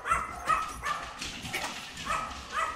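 Several dogs in a home bark, yip and whimper together in irregular overlapping bursts, fairly close and loud throughout.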